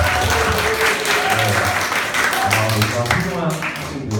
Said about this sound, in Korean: 함께 박수 한번 쳐볼까요?